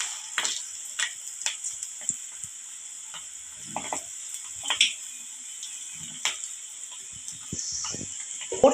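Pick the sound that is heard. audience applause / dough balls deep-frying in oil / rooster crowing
dough balls deep-frying in oil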